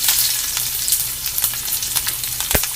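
Mustard seeds, cumin, onion and garlic sizzle steadily in hot oil for a ridge gourd bassaru, a dense crackling hiss with scattered pops and one sharp spatter near the end, close by with no voices.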